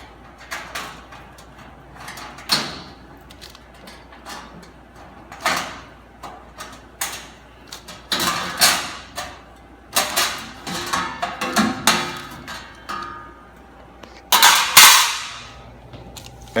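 Sharp metallic clicks and clatters sound in irregular bursts as screws are removed from the front panel of an American Range oven, with a loud rattle near the end.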